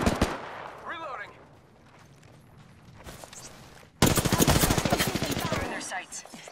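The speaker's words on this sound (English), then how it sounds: "Nine shots fired at the enemy." Rapid automatic gunfire in Apex Legends, first a short burst, then a loud sustained stream of closely spaced shots near the end, with game voice lines and action sounds between bursts.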